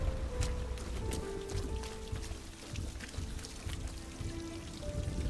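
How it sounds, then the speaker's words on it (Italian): Water trickles and pours steadily down a stone wall in the video game Rime, a soft continuous wash with faint tonal notes. "Non sembra nemmeno acqua quella che vediamo scivolare sul muro."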